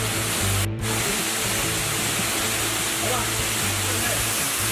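Curug Tapus, a waterfall more than 50 metres high, pours in a dense, continuous roar of rushing water, loud and close, steady from start to end with only a brief dip.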